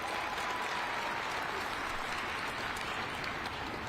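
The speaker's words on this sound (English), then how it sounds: "Give yourselves a round of applause" Audience applause at a mayoral jobs announcement in New York City, a steady, dense wash of many hands clapping at even loudness from start to finish, somewhat distant and without talk.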